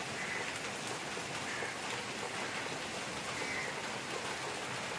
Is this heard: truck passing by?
no